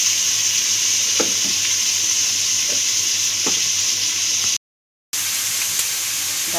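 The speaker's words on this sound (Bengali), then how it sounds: "এখন মাছ রান্না হচ্ছে।" Pangas fish frying in a pan, giving a loud, dense, continuous sizzle with a few soft utensil knocks, close up, briefly cut to silence near the end before the sizzle resumes.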